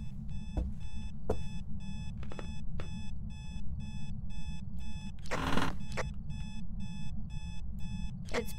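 Electronic alarm clock ringing inside the Phasmophobia ghost-hunting game, a steady pulsing run of high repeated beeps that keeps going throughout, with sharp clicks and a brief burst of noise partway through.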